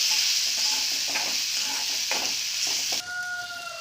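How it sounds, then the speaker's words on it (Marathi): Okra frying in hot oil with salt and homemade chilli spice masala, a steady close sizzle with intermittent scraping stirs, ending in a quieter hiss with a faint tonal hum. "थोडंसं तेलात परतवू। मग यामध्ये भेंडी आपण टाकून देऊ"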